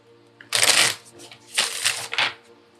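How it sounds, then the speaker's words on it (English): Tarot cards being shuffled by hand, two quick riffling bursts close to the mic with a short pause between them. "Just got to do a good shuffle, Snowbird."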